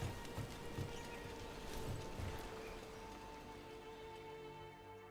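Steady rain falls in Dragon Age: The Veilguard, a dense broadband patter holding even and moderately loud throughout, with a few low thumps near the start.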